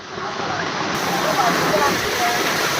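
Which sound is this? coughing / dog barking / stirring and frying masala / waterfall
waterfall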